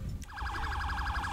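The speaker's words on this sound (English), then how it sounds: "Lights and sirens" A police siren from GTA V wails in a rapid, steady yelp, loud and close, with a low engine rumble underneath.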